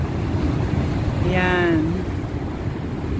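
The water of Niagara Falls keeps up a steady broadband roar and hiss, moderately loud and constant throughout, while someone briefly speaks over it.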